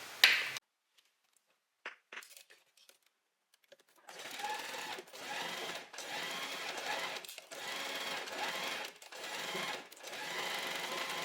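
An overlocker stitches a blouse seam in a run of steady, fast whirring bursts, each lasting about a second and broken by short pauses, after a few quiet clicks and handling sounds at the start.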